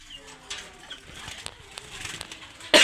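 Birds in a bird seller's shop, with scattered chirps and short calls against a quiet room, several birds calling at once, and a sudden burst of wing flapping or rustling at the end.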